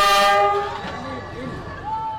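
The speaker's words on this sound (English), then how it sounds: "Locals and tourists alike gather to witness the train roar past" A full-size train pushes through Hanoi's Train Street, a narrow alley lined with cafes and homes. A loud, sustained horn blares close by and then fades, with voices faintly audible.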